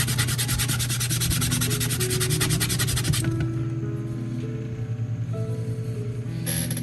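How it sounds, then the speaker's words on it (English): Sandpaper rubs the too-tall wheelhouse of a 1:400 scale model of the S.S. Edmund Fitzgerald, a close, continuous rapid scratching with a buzzing hum beneath, pausing briefly before resuming. "let's sand it down smooth"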